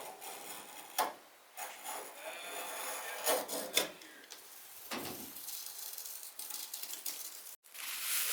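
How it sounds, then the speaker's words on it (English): Hand sanding on the window base of a 1971 Mustang Mach 1, an intermittent, scratchy rasping with irregular strokes, a few knocks and light handling noises, close and fairly quiet. "I'm sanding this down"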